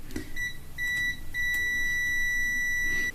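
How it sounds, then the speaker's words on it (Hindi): Steady electronic beeps from a multimeter in continuity mode as its probes touch the two points of an instant gas geyser sensor, a short blip followed by longer sustained tones, close and clear with no talking. "ये बीप देगा।"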